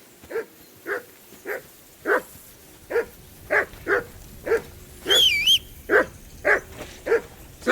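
Dog in Kingdom Come Deliverance 2 barking in a steady series of about a dozen sharp, mid-level barks, with a brief whining yelp partway through.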